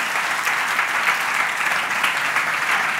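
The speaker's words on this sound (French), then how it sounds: "je pense qu'on peut à nouveau les applaudir pour chacune de leurs interventions" A conference audience claps for the speakers at a large talk on the Heart of Jesus, giving steady, full applause that stays even and fairly loud throughout.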